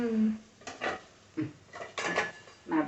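A metal pot is covered with its lid while making a snack in a home kitchen, giving several close, sharp clanks and rattles spaced irregularly.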